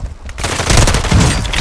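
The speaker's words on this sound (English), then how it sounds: "I'm taking enemy fire!" Rapid video game gunfire rattles loudly and continuously in a dense automatic burst that fills the short moment.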